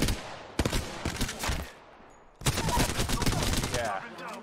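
Bursts of automatic gunfire from the video game Apex Legends come in two rapid volleys, one short and one longer, loud and close, with a short lull between them.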